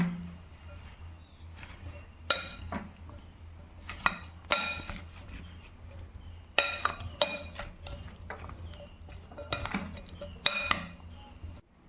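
Honey-dressed fruit salad being stirred in a bowl with a spoon, soft wet churning broken by a series of sharp clinks of the spoon against the bowl's rim, close and moderately loud with no talking.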